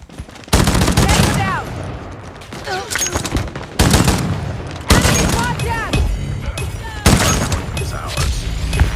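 M16 rifle firing in a Call of Duty hardpoint match: loud bursts of automatic gunfire come in several sustained volleys, with brief gaps between them and game announcer voices over the top.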